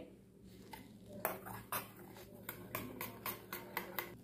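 A spoon knocks and scrapes against a bowl in a series of sharp, fairly regular clicks while aloe vera, milk and amla powder are stirred together close by, with no talking.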